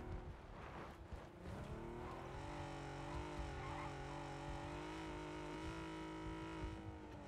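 A car engine in the video game PUBG revs hard and steadily, its pitch climbing and holding high, with a constant roaring drone throughout, loud and close, with no talking.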